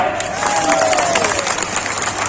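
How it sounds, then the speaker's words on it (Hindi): A crowd at a political rally in Jaisinghnagar claps, a sustained wash of applause that holds at an even level from start to finish. "अरे सही है तो तालियां बजाओ"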